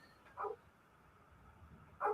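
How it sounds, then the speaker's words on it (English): A house dog lets out two short, faint barks about a second and a half apart, heard from another room against a quiet background. "if my wife would just take the goddamn dog out the door, it would stop barking"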